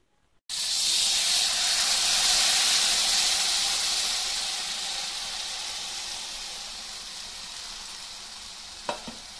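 A besan and yogurt mixture is poured into a hot pan, setting off a sudden loud hiss that slowly fades into a softer sizzle, with one brief knock near the end.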